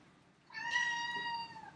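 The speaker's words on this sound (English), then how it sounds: "That's a cat." A single clear cat meow rises after a short quiet pause, holding a drawn-out tonal cry for about a second before trailing off, close and moderately loud.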